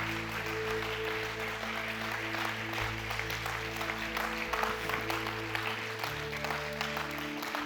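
Audience applause fills a church worship gathering, a dense, steady clatter of many hands sustained throughout, with tonal music ringing underneath.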